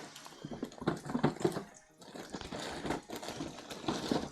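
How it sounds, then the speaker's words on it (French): Cold water running from a tap into a bowl or sink, a steady close splashing and trickling that carries on throughout with small dips in level. "je vous conseille de faire couler de l'eau froide. Dans un bol ou dans un évier"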